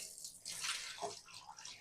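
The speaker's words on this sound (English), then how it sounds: "Pour some of the water in the bucket here." A short splash of water pours and gurgles into a bucket nearby.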